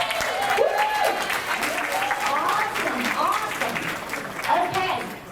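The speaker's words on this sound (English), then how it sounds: "You guys give them a huge applause." An audience at a Plexus Worldwide corporate event breaks into sustained applause and cheering, a dense wash of clapping that swells near the end while a voice carries over it.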